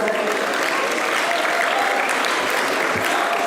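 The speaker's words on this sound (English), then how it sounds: "let's put our hands together for the Zulu dancers. Let's clap our hands." A crowd applauding Zulu dancers steadily, dense continuous clapping from many hands that holds at an even level throughout.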